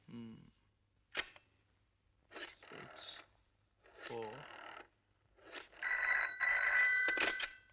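A telephone rings in a Bollywood Hindi film scene, sounding as several short bursts with pauses between them, each louder toward the end, with speech also present.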